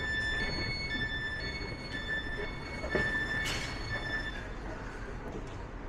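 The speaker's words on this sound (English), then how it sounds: "These trains are double decker. How does that work?" A double-decker passenger train riding along rails gives a steady rumbling roll with faint high wheel squeal and whine on top, heard from inside at low, even volume.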